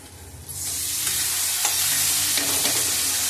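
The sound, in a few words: cabbage added to a hot pan, frying and stirring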